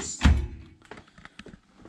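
Kitchen drawer being opened in a rented room, one dull thunk followed by a series of softer clicks and light rattles, close and fairly quiet.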